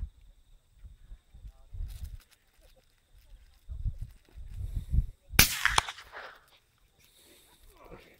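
A single sharp rifle shot from a Browning X-Bolt .270 rings out loud and close midway, amid low rumbling handling noise and soft movement outdoors.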